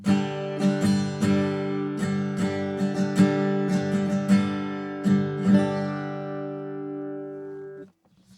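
Acoustic guitar, recorded through a dynamic microphone, strums a sustained chord pattern with sharp, percussive attacks, sounding close and somewhat mid-heavy, ringing out before stopping abruptly.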